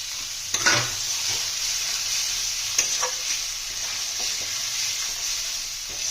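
Cumin powder, turmeric, chilli powder and tomato fry in oil for a vetki fish and potato curry, with a loud, steady, bright sizzle and a few scattered stirring scrapes.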